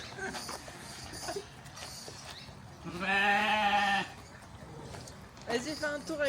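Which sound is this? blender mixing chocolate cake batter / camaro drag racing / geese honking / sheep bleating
sheep bleating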